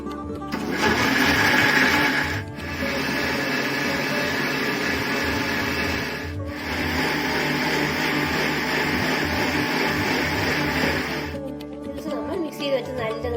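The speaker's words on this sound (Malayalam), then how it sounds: "നമുക്ക് മിക്സിയിൽ വെച്ച് നല്ലതുപോലെ ഒന്ന് അരച്ചെടുക്കാം." An electric mixer grinder blends ABC juice of apple, beetroot and carrot with cold water, a loud steady whirring motor that runs in three long bursts separated by two brief stops before winding down at the end.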